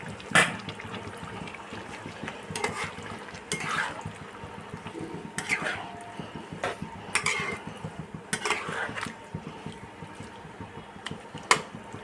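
Fried eggplant gently stirred through a yogurt sauce in a pan, with repeated soft scrapes and clinks of a utensil against the pan in irregular strokes over a low background.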